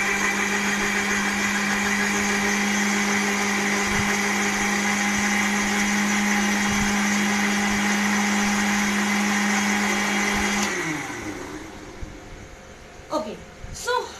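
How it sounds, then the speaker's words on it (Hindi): A kitchen mixer grinder runs at high speed spinning milk, a loud steady motor whine that shuts off and spins down, followed by quieter clicks and handling noises. "ये हमने फिट किया मिक्सर में, मिक्सी में अपने, और इसको थोड़ी देर के लिए ग्राइंड करें"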